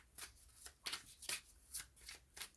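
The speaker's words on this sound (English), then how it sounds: "Just give it a little bit of a shuffle." Tarot or oracle cards shuffled by hand, a quiet sequence of about six crisp riffling bursts in an even rhythm, close by with no talk.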